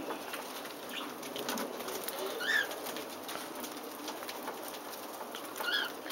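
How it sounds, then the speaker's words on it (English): Cockatiels feeding together, giving a few faint, brief chirps at scattered moments over a soft background of pecking and rustling. "this is my birds having a feast"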